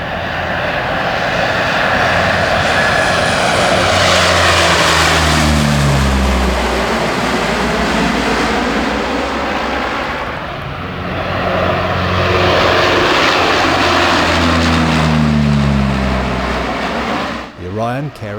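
Lockheed Orion maritime patrol turboprop of the Royal New Zealand Air Force, its engines droning loudly and steadily with rising and falling propeller tones as it passes, close and dominant throughout.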